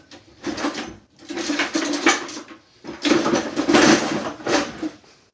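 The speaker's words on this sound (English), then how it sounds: "Just going to grab a spoon." Kitchen utensils clatter as a hand rummages for a spoon during home cooking, two bursts of metallic jostling and scraping separated by a brief pause, close and fairly loud.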